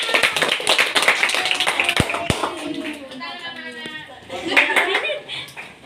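A classroom group claps for a student team after a presentation, with scattered hand claps and light laughter running under a speaking voice before the clapping thins out.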